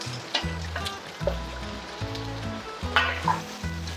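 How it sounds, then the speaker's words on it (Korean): Ingredients stir-frying in a hot oiled pan for Korean fried chicken, with a steady sizzle broken by scraping and tossing strokes, close and fairly loud, no talk. "이제 나머지 재료를 넣고 같이 볶겠습니다."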